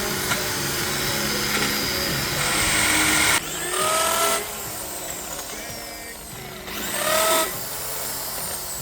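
Power drill used in carpentry work, a continuous loud whirring motor that twice rises to a sharper, higher whine as the bit bites into wood, then settles back.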